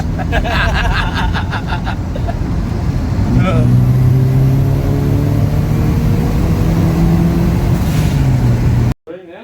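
A turbocharged Toyota Hilux with a 2.7L 3RZ engine pulls hard under acceleration, with a loud continuous engine roar and rising tone that runs nearly the whole time before cutting off abruptly at the end.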